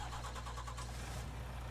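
Truck engine in Farming Simulator 22 turning over and catching, then settling into a steady low idle, close and continuous with no talk.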